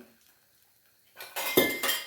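Two metal cooking pots handled and set down, a few sharp clanks and clinks after a quiet start, close and fairly loud.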